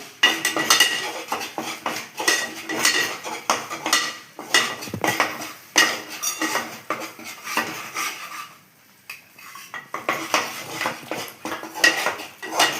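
Ingredients roast in ghee with a pinch of cardamom powder and colour powder while a utensil stirs and scrapes the pan. Repeated close metallic scraping strokes come in an uneven rhythm, with a brief lull partway through and no talk.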